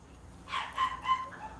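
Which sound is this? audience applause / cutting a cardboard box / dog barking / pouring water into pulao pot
dog barking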